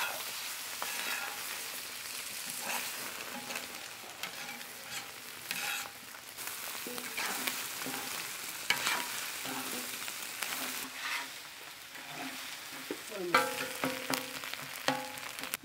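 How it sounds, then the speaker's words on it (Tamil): Eggs sizzle and fry with rice on a hot tawa in an outdoor village kitchen, a continuous bright crackle with scraping and occasional metallic clinks of a spatula against the pan. "இப்போ முட்டையை உடச்சி ஊற்றிட்டுனப்பா, கழட்டி விட்டுக்கிறேனப்பா."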